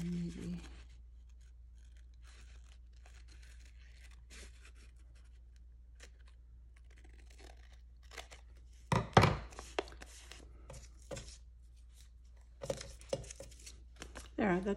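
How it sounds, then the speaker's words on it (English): Scissors snip paper for an envelope pocket in short, close bursts of cutting and crinkling, with quiet gaps between and someone talking at times. "As I cut this, let's see."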